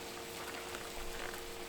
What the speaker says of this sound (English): I've got a nice big pot of boiling water